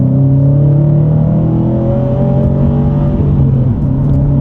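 A Subaru STI pulling hard through the gears, a loud close engine drone with rising and shifting tones over steady road roar.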